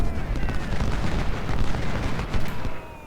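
Dense, continuous rumbling gunfire and booming artillery shelling enemy guns in the Civil War strategy game Ultimate General: Civil War, with overlapping blasts filling the whole stretch at fairly loud level.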